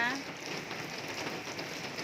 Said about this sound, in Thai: ฝนตกรินรินหอมกลิ่นดินกไอฝน